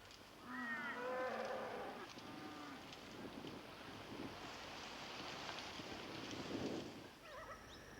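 Cattle on a vast cattle station in the rugged Kimberley region of Western Australia moo several times, the calls rising and falling over a windy, rushing outdoor background, moderately near.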